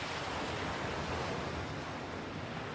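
Ocean waves roar in a steady, dense wash with a sea breeze blowing over them, a continuous loud rush of surf with no voices.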